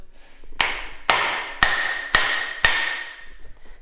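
Five loud, evenly spaced metallic blows of a hammer striking a stuck engine piston, each ringing out and decaying before the next, close up with no talking.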